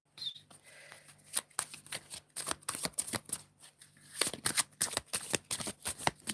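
Tarot cards being shuffled close by, a run of crisp riffling flutters and taps, with a denser burst of shuffling toward the end.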